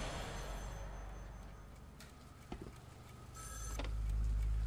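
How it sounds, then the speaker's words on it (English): A telephone rings in the horror video game Call of Cthulhu: Dark Corners of the Earth, a few quiet ringing bursts over a low ambient hum with no voices. "Answer the phone, Jack."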